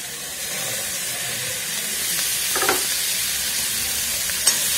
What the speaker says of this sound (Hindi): इसे हमें तकरीबन 7 से 8 मिनट तक भूनना है, जब तक हमारे टमाटर ना गल जाए